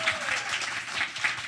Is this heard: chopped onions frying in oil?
no